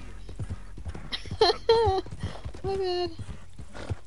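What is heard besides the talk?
horse galloping in a PS4 video game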